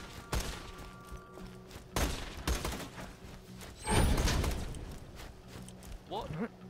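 Scattered gunshots in Borderlands 2, several sharp separate cracks spaced a second or two apart with a heavier boom in the middle, while players chat over the firefight.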